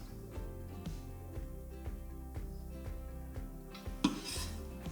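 Pieces of sausage clink and scrape into a cold metal pan for an Amatriciana, with a series of soft knocks and utensil clatter, ending in a sharper clang.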